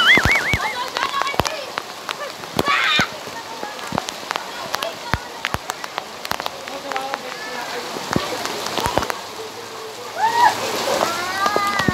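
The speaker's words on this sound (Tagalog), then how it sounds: "Malakas ang ulan." Heavy rain falling outdoors, a continuous hiss broken by sharp splatters and drips, with people talking and calling out over it.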